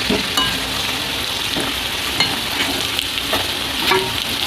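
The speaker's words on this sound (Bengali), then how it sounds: "আলুটা আমার লাল লাল করে ভাজা হয়ে গেছে" Potatoes fry in hot oil until reddish-brown, giving a steady, loud, continuous sizzle with light stirring and no speech.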